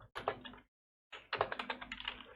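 Quick keystrokes on a computer keyboard as a terminal command is entered, two short bursts of close, crisp clicking separated by a brief pause, quiet and with no talk.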